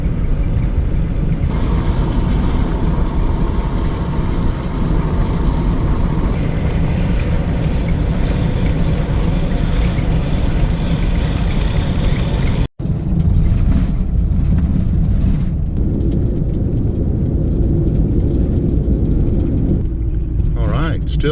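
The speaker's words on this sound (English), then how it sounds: "today we're driving down Route 66 westward" A van cruising west along Route 66 toward Tucumcari, New Mexico, with steady road and engine rumble throughout, a brief cut midway, and talk over the drive.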